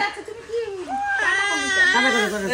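An infant crying close by, loud, rising and wavering wails that build into a sustained, strained cry.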